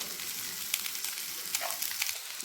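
Rice tossed into winter vegetables frying in a pan for Bengali fried rice, with a steady broadband sizzle and a few sharper crackles and stirring scrapes, close and fairly quiet.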